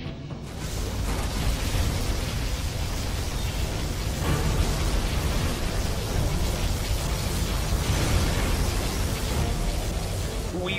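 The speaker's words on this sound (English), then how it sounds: "Particle cannon activated." A particle cannon superweapon fires in Command & Conquer Generals Zero Hour, a sustained loud, roaring broadband blast that rumbles steadily for about ten seconds without pause.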